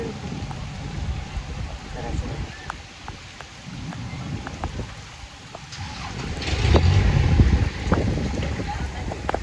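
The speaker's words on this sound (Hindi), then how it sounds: "यहाँ पे इंतहा बारिश है" Steady heavy rain in Karachi hisses and patters throughout, swelling louder near the end, with voices talking underneath.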